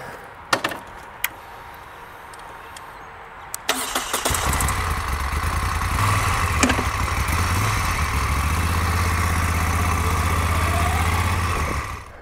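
A boxer-engine touring motorcycle, handbuilt, sits through a few clicks and knocks, then fires up and settles into a steady, loud, low idle that runs with a slight throb until the end. No voices are heard.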